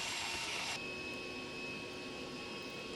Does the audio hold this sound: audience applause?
no